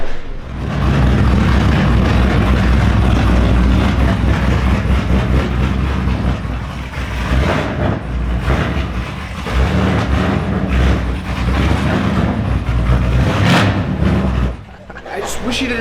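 A Pontiac GTO's 454 LSX engine revs loudly with a throaty exhaust roar, rising and falling continuously, with people talking over it.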